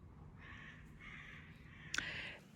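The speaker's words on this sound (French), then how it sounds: "les corbeaux." Crows caw from nearby greenhouses in a garden: a few harsh calls in a row with a sharper, louder caw near the end, no talking.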